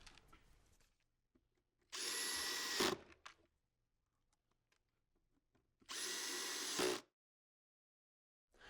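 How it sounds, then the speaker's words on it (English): A power drill whirs through wood in two bursts of about a second each, with quiet pauses and small handling noises between them. "I have those holes marked, and it's time to go ahead and drill them."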